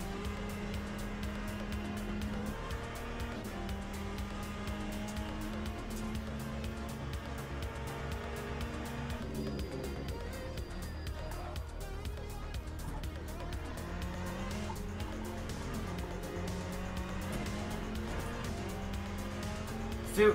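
A Ferrari race car in a Le Mans online racing game drives flat out, its engine tone climbing and dropping through repeated gear shifts, with tire noise and a talking voice over the continuous drone.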